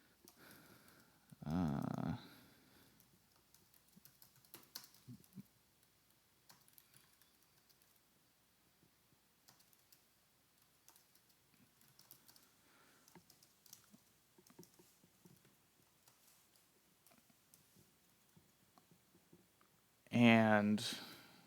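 Someone types code on a computer keyboard in a quiet room, producing faint, irregular light keystrokes over about twenty seconds, with short bursts of speech near the start and the end.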